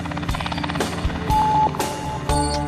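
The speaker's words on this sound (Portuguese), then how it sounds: "Para chegar e sair daqui, só de helicóptero." Steady rotor thrum of a helicopter serving an offshore pre-salt oil platform, with a broad engine whine, layered with shifting tones and a brief high beep; loud and continuous.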